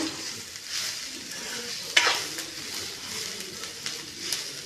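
Ingredients for a goat head and trotter sambar being mixed in a pot, soft continuous stirring and scraping with a faint sizzle and one sharper clink, close and steady.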